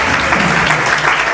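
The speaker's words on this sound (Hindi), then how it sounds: "जोरदार ताली बजाएं।" Wedding guests clap in dense, continuous applause, loud and close, a brief even burst of many hands.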